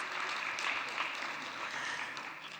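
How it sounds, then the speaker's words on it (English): Audience applause for conference panelists at a forum session, a soft, continuous patter of clapping from a seated crowd that fades slightly toward the end. "So please give them another round of applause."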